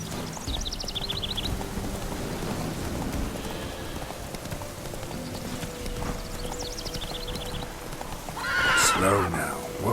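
A horse in The Witcher 3 clip-clops along with rhythmic hoofbeats over light rain, giving short neighs early on and a louder whinny near the end, while a voice speaks over it.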